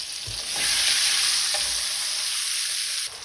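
Onions drop into hot Salisbury steak pan drippings and extra virgin olive oil, raising a loud, close sizzle that holds steady with a couple of stirring scrapes, then dips slightly near the end.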